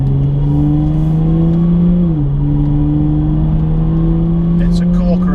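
A Jaguar XE S five-seat family car, fitted with the F-Type's engine, accelerates with a loud, sustained droning engine note that dips briefly at a gear change, then climbs again.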